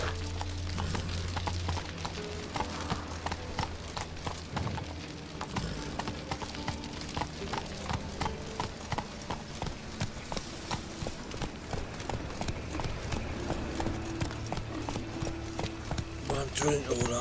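Hooves of Geralt's horse Roach clip-clop steadily in The Witcher game, a run of hoofbeats mixed with music and other game sounds, with people talking over them.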